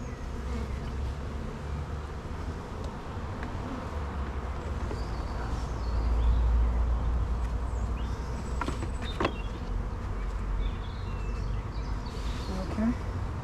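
A dense swarm of honeybees hums steadily around an open beehive as it is being closed with a super and queen excluder, the buzzing close and continuous with occasional louder passes and faint talk underneath.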